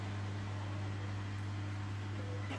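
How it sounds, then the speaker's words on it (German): An electric hand mixer whirs steadily, blending Christmas cookie dough with oil and natural ingredients such as turmeric, a constant motor drone with a low hum running unbroken through the whole stretch. "Ich habe so ein Handrührgerät."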